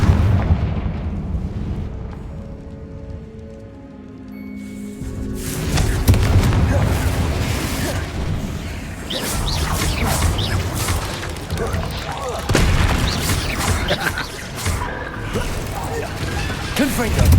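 Fiery spell explosions from the Confringo blast in the video game Hogwarts Legacy, a quiet stretch giving way to repeated loud booming bursts and crashes, with a voice shouting over the blasts.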